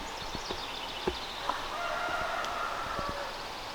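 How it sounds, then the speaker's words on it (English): Roosters crow faintly in the distance near an old apple orchard over a steady outdoor background hiss, with a few soft knocks nearby. "And now I'm hearing roosters."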